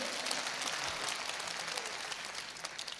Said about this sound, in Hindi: तो एक बार पूरा सदन तालियां वालियां बजा के बता दीजिए